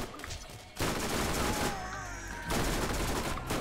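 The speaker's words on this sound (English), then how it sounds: "That's an insane amount of fire away for an SMG." An SMG in the video game Borderlands fires in rapid bursts, loud and close, with dense rattling volleys separated by a short pause.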